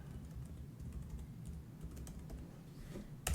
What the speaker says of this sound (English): I'm just gonna put in a simple password.